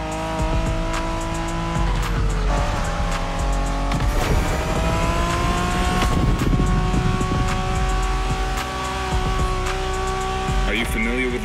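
A Honda MSX car driven hard in The Crew Motorfest racing game, engine droning loudly with shifting pitch as tires squeal through skids, alongside a game voice talking.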